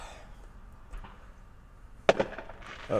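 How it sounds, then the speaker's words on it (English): Fireworks sounding in the distance: a soft pop, then a sharper bang with crackle near the end and another burst starting, over low background rumble. "More fireworks."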